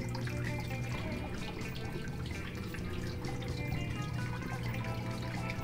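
Water runs and trickles steadily down a decorative waterfall in a home tiki bar, a continuous close splashing flow with no talk over it.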